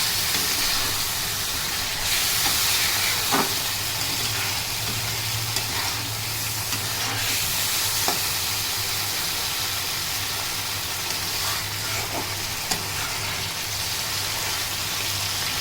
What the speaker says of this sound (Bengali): ডিমগুলো দিয়ে আর একটু ভেজে নেবো